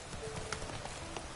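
A horse gallops in The Witcher 3, its hoofbeats quick and fairly faint through a short burst.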